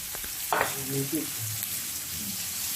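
Chicken feet frying in a pan, a steady loud sizzle with a few stirring clatters near the start, while someone talks briefly over it.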